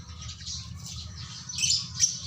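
A bird gives a few squawks and calls close by, the sharpest two cries near the end over a steady low hum, with no speech.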